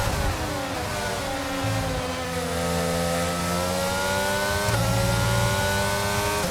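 Formula 1 car engines scream through an overtake at Silverstone in the F1 22 video game, a loud continuous high-revving whine whose pitch dips and then climbs again as gears shift.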